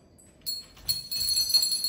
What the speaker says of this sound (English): Yeah, shake them bells.